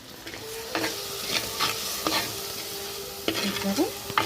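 Chicken pieces frying in oil spiced with chili, salt and turmeric for a home chicken curry, a close steady sizzle with repeated spoon scrapes and knocks against the pan.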